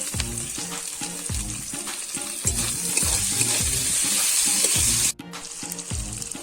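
Tomatoes hit a hot pan of ginger-garlic paste and sizzle loudly, a dense steady frying hiss under rhythmic stirring scrapes that ease off briefly near the end.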